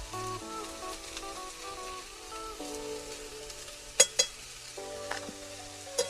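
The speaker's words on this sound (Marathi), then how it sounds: "हळद घातल्यावर देखील आपल्याला भेंडी परतून घ्यायची." Okra sizzles softly with turmeric in a pan over a wood-fired chulha, a steady low crackle beneath tonal background music, with a few sharper stirring clicks.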